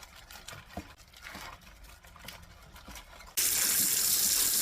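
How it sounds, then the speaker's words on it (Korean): Vegetables are rinsed under running tap water: a soft trickle and splashing give way partway through to a loud, steady gush from the faucet. "흐르는 물에 2번 정도 씻어주세요."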